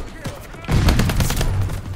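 Rapid automatic fire from the dubstep gun in a Call of Duty game, a loud burst of repeated shots kicking in partway through after a quieter opening and running to the end.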